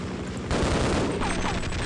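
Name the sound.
helicopter shooting at player in video game Half-Life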